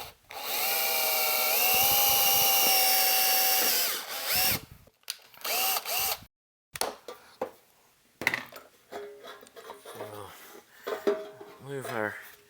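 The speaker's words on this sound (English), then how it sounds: "So let's drill all our pilot holes." A power drill whines loudly and steadily for about four seconds while boring pilot holes in an amplifier chassis, then gives way to scattered clatter and handling of metal and wood.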